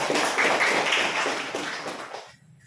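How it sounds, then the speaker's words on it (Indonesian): A classroom group claps and applauds for a couple of seconds, a dense patter of hands that fades out at the end. "Silakan dulu, berikan aplaus"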